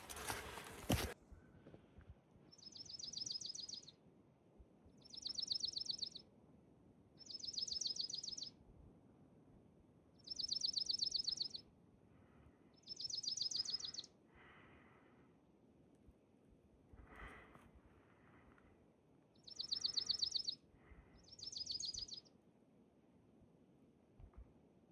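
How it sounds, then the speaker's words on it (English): Wild birds singing along the Appalachian Trail in the Smoky Mountains: about eight bright chirping bursts at regular intervals over faint outdoor background, with soft footsteps and no talking. "What kind of birds are those?"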